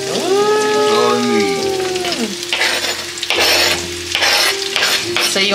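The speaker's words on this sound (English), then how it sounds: "So you want to saute the onions and the peppers" Onions and peppers sauté in a pan with a continuous sizzle and some stirring clatter. A tonal whistle-like sound slides through the first two seconds, and people are heard now and then under the cooking noise.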